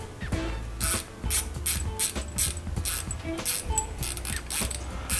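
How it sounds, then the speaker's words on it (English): Ratcheting clicks from a 10mm wrench and 5mm Allen wrench snugging the mounting bolts of a Yepp Maxi child bike seat, in repeated short bursts of close, crisp metallic ticking with brief pauses between strokes. "with our 10mm wrench and our 5mm Allen wrench, we're going to snug these up a little bit"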